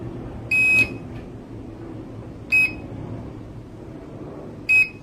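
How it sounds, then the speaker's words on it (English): A high electronic beep from a Holy Stone HS200 drone controller sounds three times at roughly two-second intervals, the first longer than the others, over a faint background hiss. "It does unfortunately beep all the time."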